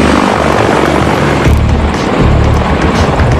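A CH-53E heavy-lift helicopter with a seven-blade, 79-foot rotor roars loud and close, a dense continuous thrum of rotor and engine noise that never lets up.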